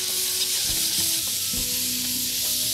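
Curry being stirred after yogurt is added, a loud continuous sizzle with spoon strokes scraping through the pan at a few points, steady and close with no voices.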